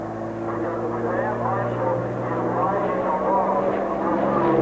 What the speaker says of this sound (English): one of my duties was to fly in with the aerobatic professional Julie Clark and that Navy trainer